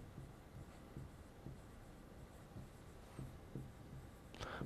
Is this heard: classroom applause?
no